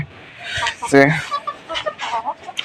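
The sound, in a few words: chicken clucking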